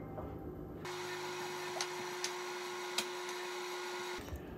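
A meat grinder runs a second grind of beef through a changed plate, a steady motor drone with a fixed whine that starts abruptly and cuts off near the end, broken by a few faint clicks.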